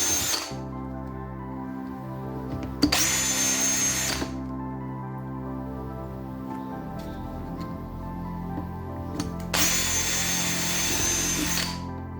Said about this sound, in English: so that we can pre-drill out the holes here